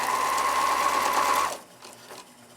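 A sewing machine with a built-in walking foot runs a steady, fast stitching whir for about a second and a half while joining quilt strips, then stops, leaving faint room noise.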